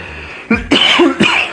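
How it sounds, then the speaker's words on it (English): A few harsh coughs close to the mic, in three separate bursts with short pauses between, loud against a quiet room. "Let me cough for a sec."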